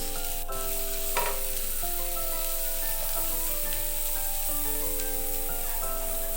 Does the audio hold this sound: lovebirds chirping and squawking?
no